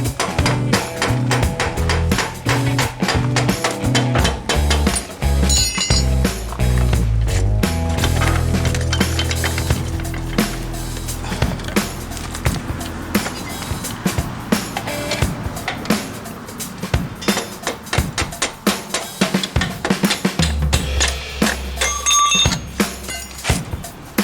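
Repeated metallic taps and clinks on the back side of a Suzuki DR 650 rear axle, dense and close, in an irregular series of strikes with some rattling workshop sounds.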